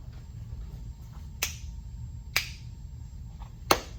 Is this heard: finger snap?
yes